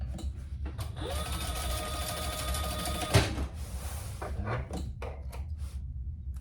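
A sewing machine named Thor top stitches a tote bag with a steady mechanical whir, loud and close, broken by a sharp clunk about halfway through and then a few short bursts and clicks.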